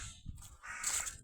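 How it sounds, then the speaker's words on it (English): A crow caws in woodland at dusk as birds gather to roost, a rough call rising over faint background birdsong and low rustling, moderately distant and fairly quiet. "It's a crow."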